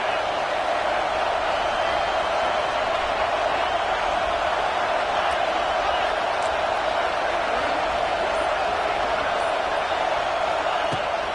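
Steady stadium crowd roar fills a College Football 25 game as Oklahoma plays Clemson, a constant loud wash of cheering with a game commentator talking over it.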